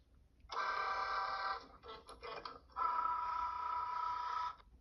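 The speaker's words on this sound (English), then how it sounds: "Hit go and your Cricut Joy will start cutting" A Cricut Joy cutting machine slices Smart Iron-On material with a close, steady motorised whir, running for a long stretch, stuttering through a short choppy middle section, then resuming evenly.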